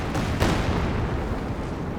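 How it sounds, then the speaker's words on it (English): Katyusha rocket artillery barrage striking a capture point in Company of Heroes 2, a loud, dense wash of rumbling blasts with a sharp impact burst near the start, sustained and close throughout. "Long-range Katyusha onto the VP, hoping to wipe the Grenadier capping there."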